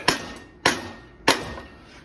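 A mallet strikes a bicycle bottom bracket into a Schwinn Mean Street frame three times at an even pace. Each sharp, close metallic whack fades before the next.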